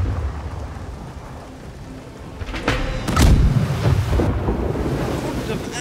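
Ship cannons firing in the naval combat game Blackwake: a couple of heavy booming blasts cut through a constant rushing, wind-like roar, the loudest shot landing near the middle and its rumble trailing off.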